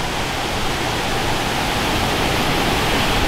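Steady broadband roar of a waterfall near Souillac, Mauritius, a constant hiss and rumble that holds level from start to finish with no voices.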